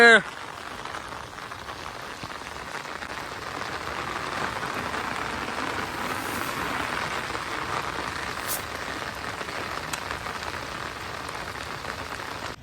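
Steady monsoon rain pours down on a rural farm field in a constant broadband hiss, close and even throughout, with a faint voice briefly audible under the downpour.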